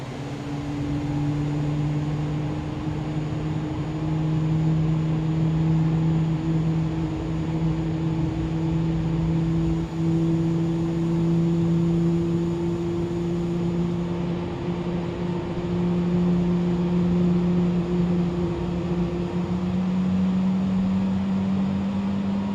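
Airliner engine 2 spooling up in a flight simulator game, a steady whine with two rising tones over a constant rumble, sustained and even throughout, no voices.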